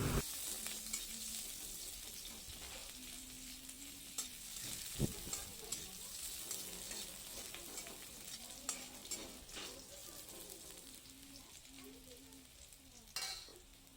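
A fish curry with vegetables simmers and sizzles in a pan, a faint continuous crackle with occasional stirring knocks and scrapes throughout.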